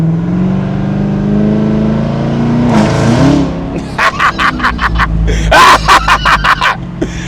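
A Chevrolet Camaro ZL1 engine in sports mode hums low, then revs up in a series of sharp, loud bursts, with a voice briefly heard beforehand.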